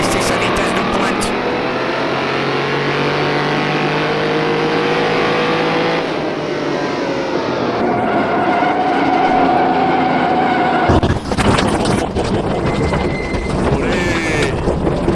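In rFactor 2, a 1967 Renault 8 Gordini 1300 or a Ferrari Testa Rossa 250 roars continuously at top speed, its engine loud and steady with a dense buzzing tone. A brief shift in the note comes near the end, with a voice talking over it.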